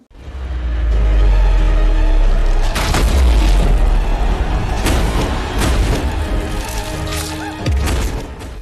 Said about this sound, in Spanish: una explosión siempre mola